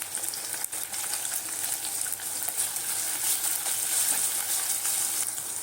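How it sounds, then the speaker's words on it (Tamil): Onions sautéing in a pan for a curry leaves gravy, with a steady, moderately quiet sizzle and crackle and a few faint clinks, and no talking. "வெங்காயம் நல்லா வதங்கட்டும்."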